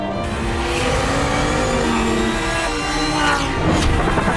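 A Lamborghini Huracán STO super sports car engine roars steadily and loudly, a dense sustained drone with shifting rising harmonics, as if revving under load, with no voices over it.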